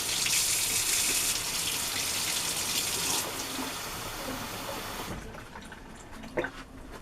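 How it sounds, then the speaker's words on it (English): Water runs from a tap into a baking pan as bread is prepared: a steady, close, hissing stream that shifts in tone as the pan fills, then stops, leaving a few faint clinks and drips. "And then I'm going to put some water in a pan like this"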